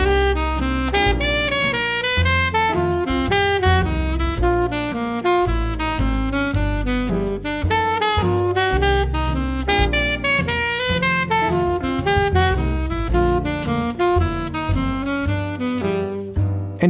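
Saxophone playing a continuous, fast eighth-note line of double chromatic approach notes from above then below, close and steady, heard alone with no talking.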